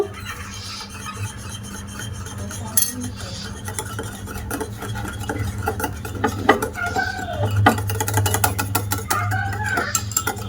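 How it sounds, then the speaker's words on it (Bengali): A spoon stirs warm boiled milk into sour yogurt starter in a glass bowl while making sweet yogurt, giving steady close scraping and clinking against the glass throughout with no talk. "জাল করা সেই দুধটা দিয়ে দেবো দিয়ে এবার ভালো করে দুধটা মিশিয়ে নেব"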